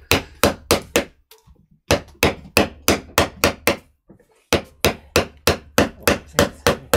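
A hammer strikes a chisel while carving a woodblock, a close series of sharp wooden knocks in quick bursts of several blows with short pauses between groups.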